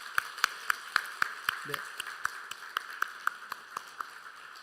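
A church congregation claps to welcome a new pastor during a Sunday service: a steady, rhythmic run of sharp claps at moderate distance, with a brief voice heard partway through.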